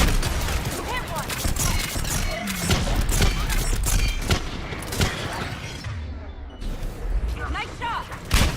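Dense, continuous combat gunfire in Mass Effect 3, rapid shots and heavy thuds layered over rumbling background, loud and busy, with voices calling out amid the fighting.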